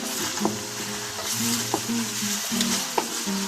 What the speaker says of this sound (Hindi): अब इसमें लहसुन अदरक का पेस्ट डाल देते हैं, ताकि ये भी अच्छे से फ्राई हो जाए। इसको मिक्स कर लें।